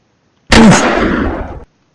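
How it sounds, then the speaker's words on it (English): A bolt-action rifle fires once in a video game, a single loud, sharp report with a long noisy tail that decays over about a second, heard alone. "So that's what the bolt action rifle does."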